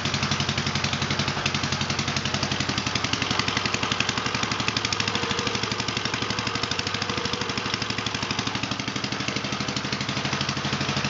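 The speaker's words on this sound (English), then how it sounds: "There we go, that's an idle." A 1948 L tractor engine idles steadily just after a throttle shaft bushing change, a loud, close, even rhythmic chugging with a rough knocking beat that continues unbroken and alone.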